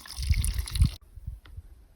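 Trickle of water at a trail water source on the Continental Divide Trail, soft close burbling and dripping in uneven bursts, with quieter splashes after a brief pause.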